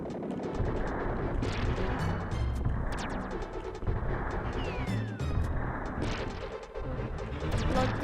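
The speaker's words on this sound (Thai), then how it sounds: "ระเบิดแล้วอะ" Explosions and rapid gunfire from the 1992 Super Famicom game Contra III: The Alien Wars, a dense, loud run-and-gun barrage of blasts and shots throughout, with sharp bursts near the start and middle.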